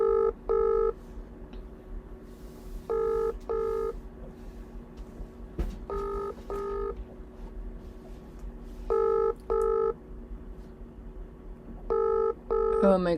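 Phone call ringing tone heard through a handset, double rings repeating at regular intervals about every three seconds, with a low steady engine-like rumble underneath.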